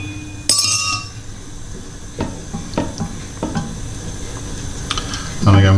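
Spoon stirring tomato puree and Italian seasoning into a smoked pancetta and bacon pasta bake, with scattered clinks against the dish over a low steady background.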